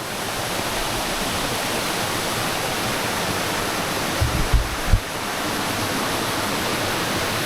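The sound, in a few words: waterfall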